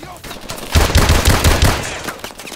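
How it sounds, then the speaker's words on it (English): Pistol hip-fire in a shooter video game: a quick burst of about half a dozen loud, close shots in rapid succession, then a fading tail. "I can use my pistol. See if I can get some hip fire kills with this."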